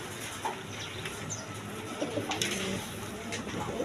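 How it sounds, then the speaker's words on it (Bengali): A pair of red Jacobin pigeons coo softly in a loft, with faint, scattered calls and light chirps over a quiet background hiss and no talking. "এখানে এক পেয়ার কবুতর আছে দেখেন, একদম কোয়ালিটি সম্পন্ন কবুতর, জ্যাকোবিন কবুতর দেখেন"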